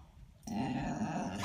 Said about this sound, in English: she's growling at you.